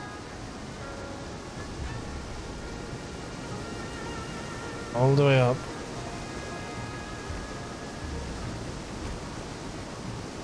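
Steady rushing waterfall in the Guild Wars 2 video game, a constant broadband roar throughout, with a voice speaking briefly in the middle.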